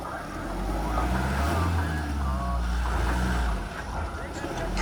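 A vehicle revs hard while pulling out of thick mud, its engine roaring loud and close and surging with strain before easing off near the end.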